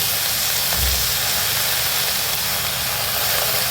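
Chopped greens (keerai) with salt and a little turmeric go into a hot pan for poriyal, giving a steady, even sizzle and hiss with no talking.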